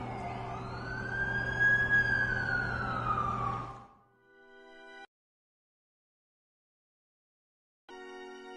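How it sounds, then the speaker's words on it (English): An ambulance siren from a Spider-Man video game wails loudly for about four seconds, rising and falling, then cuts off. Two short bursts of a tonal game sound follow with silence between them. "That's the ambulance I called."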